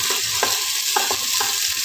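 Peas for a potato-carrot sabzi sizzle steadily in a hot pan, a continuous close frying hiss broken by a few soft stirring scrapes, with no voices.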